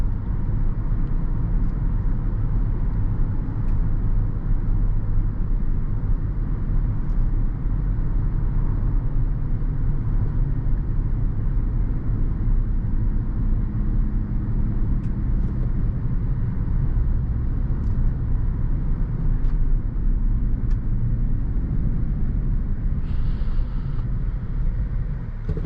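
A 2018 Range Rover drives along with a steady low engine and road rumble filling the cabin, a smooth continuous drone that holds throughout under faint interior clicks.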